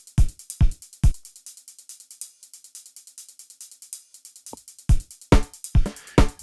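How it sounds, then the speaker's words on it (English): Punchy drum hits play one after another: deep kicks, sharp snares and crisp hi-hat ticks, with a gap of near silence midway. "What you're hearing is some of the kicks, snares, and hats"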